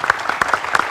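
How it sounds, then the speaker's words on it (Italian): Close, loud claps from an audience at an author event with Paolo Malaguti, a quick, uneven run of individual hand strikes heard clearly and alone. "intanto un applauso ci vuole ancora"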